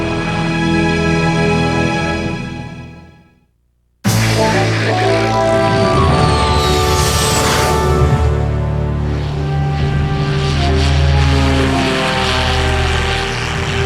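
A propeller-driven fire bomber airplane flying, its engine drone loud and steady and tonal; the sound fades out, cuts off briefly, then returns loud and dense before easing slightly.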